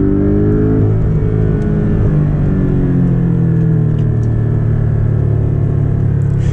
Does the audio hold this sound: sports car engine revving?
yes